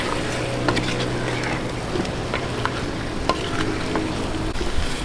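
Chicken being stirred in a pot with fish sauce and pepper for Ilonggo chicken binakol, giving a steady low scraping and soft sizzle with scattered light clinks, close and continuous.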